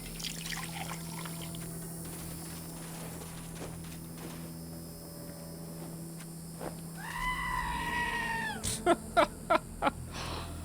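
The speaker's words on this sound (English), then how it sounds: "You could top off your canteen here if you'd like." In Wasteland 2, a canteen is topped off with water at a trough: a soft trickle and pour over a quiet game ambience, followed by a few brief clip-clop-like taps near the end.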